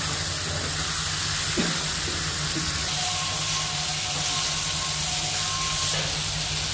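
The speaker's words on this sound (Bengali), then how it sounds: "মশলাটা কষানোর সময় মা এর মধ্যে সামান্য একটু জল দিয়ে দিল" Spice paste for a lote fish dish frying in a pan as a little water is added, giving a steady, loud, continuous sizzling hiss with no voices.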